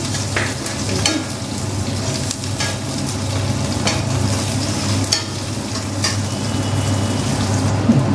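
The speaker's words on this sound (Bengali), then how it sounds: "কিশমিশগুলো দিয়ে দিচ্ছি গোবিন্দভোগ চালটাও দিয়ে দিচ্ছি" Raisins and gobindobhog rice fry in a pan with a steady, close sizzle and scraping stirs throughout, while a low hum runs underneath.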